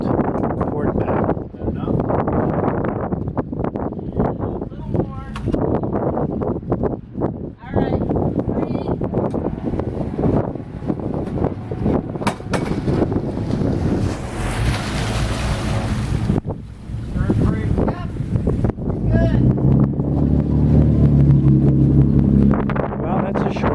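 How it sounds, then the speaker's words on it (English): Selene 43 trawler casting off from a fuel dock in heavy wind at a Florida marina, with loud, steady wind buffeting and water wash throughout, voices talking intermittently, and an engine rumble building near the end. "Casting off from the fuel dock, heavy wind, port bow."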